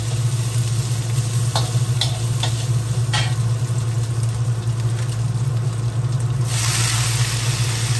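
Vegetables stir-fried in a pan with a steady, loud sizzle, with scattered scraping clicks from stirring over a constant low hum. No one talks.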